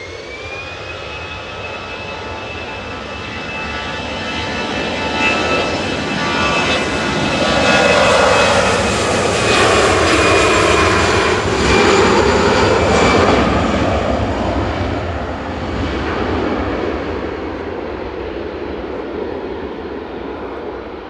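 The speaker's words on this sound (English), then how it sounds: "This is EasyJet going to Paris Orly, flight 2115, operated by GE's EZUF 13-year-old A320 Classic." An easyJet Airbus A320 Classic, 13 years old, departs Manchester for Paris Orly with a loud jet roar and a thin whine. The sound swells to a peak midway, then fades slowly.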